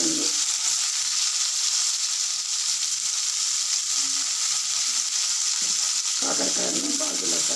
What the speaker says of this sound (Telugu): కాకరకాయలను బాగా చక్రాలుగా తీసుకొని ఇలా కొంచెం నూనెలోనే మనం బాగా ఫ్రై చేయాలి